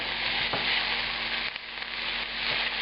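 Garlic, olives, capers and anchovy frying in a hot pan for a puttanesca pasta sauce, a loud, steady sizzle with faint stirring and no talking.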